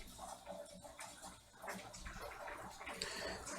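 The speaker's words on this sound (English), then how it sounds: "Water's pouring out there." Water pouring steadily into a room, a continuous splashing rush like a tub filling, heard at low level with faint background murmur.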